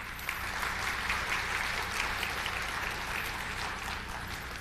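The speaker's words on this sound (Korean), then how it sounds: "큰 박수로 부탁드립니다." Applause from a concert audience greeting a guest speaker, a steady, even wash of clapping that holds at a moderate level throughout with no voices over it.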